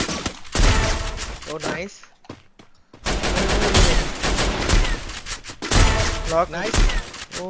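Gunfire from a shooter video game crackles in dense bursts, loud and near, pausing briefly before resuming, while players talk excitedly over it throughout.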